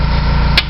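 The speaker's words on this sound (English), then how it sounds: "Take your hammer and hit the nut to hammer the bolt out" A single sharp hammer strike on the nut of a pinch bolt rings out near the end over a low, steady hum, during a 2003 Taurus CV axle replacement.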